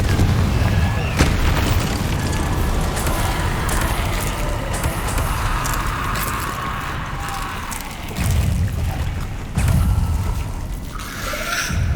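Confringo fire spell blasts in the Hogwarts Legacy video game, booming explosive bursts layered over a dense rumbling combat mix, loud and continuous with a few sharper pops.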